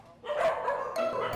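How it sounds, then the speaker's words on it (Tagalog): Dogs inside an animal shelter bark in short bursts, one bark after a quiet start, then a cluster of yips and barks with a further burst near the end, close and fairly loud. "matiyagang naghintay ang mga aso sa loob ng shelter"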